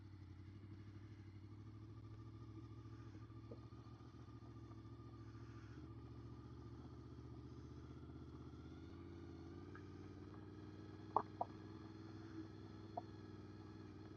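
Steady low engine drone from a motorcycle under way, recorded on a rider-mounted action camera, with a constant rumble, a few faint clicks and rattles near the end, and no talking.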